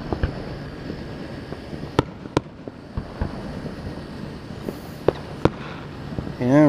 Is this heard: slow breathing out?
no